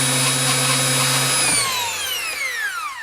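Motor of a Bosch 16-gauge brad nailer whines at a steady high pitch, then its tone drops away as it winds down. Close and fairly loud, with no talk.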